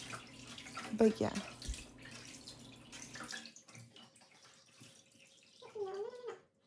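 Bathwater runs into a tub for a beagle puppy's first bath at home. The water is a soft, splashy rush under a person's talking, then it stops and a small voice sound follows.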